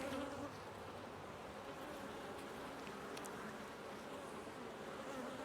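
Honey bees buzz in an open, queenless hive in a steady, dense drone, close and continuous, with no voices.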